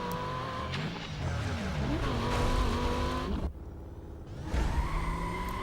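A metallic silver Mercedes racing in Need for Speed: Most Wanted (2005, PS2), engine revving with rising gear sweeps and tyre squeal, loud and close, a sudden drop to a low rumble before the engine surges again.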